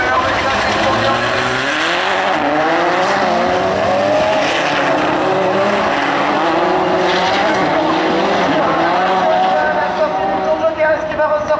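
Rallycross supercars race and slide on a loose track, engines rising and falling in loud sweeping revs with tire scrabble, under continuous excited commentary.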